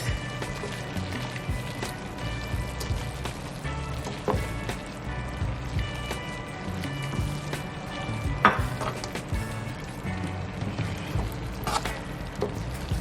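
Andouille sausage and bacon frying with southern fried cabbage in a pan, stirred in, giving a steady low sizzle with soft scraping and occasional clacks of the utensil, close and fairly quiet, without talk.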